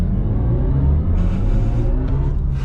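A BMW i4 M50 electric car accelerating at full throttle from inside the cabin, a loud, steady low rumble of road and motor noise with a faint rising whine building over a few seconds.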